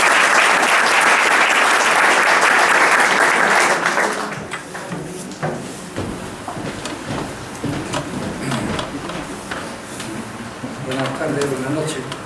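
Loud, dense applause from an audience greeting a speaker at an evening speech event fills the first four seconds, then fades into scattered claps, murmurs and room noise as someone begins to talk.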